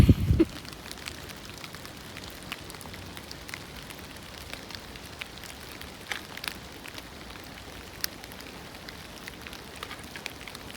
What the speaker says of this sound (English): Guess what, guys? More rain.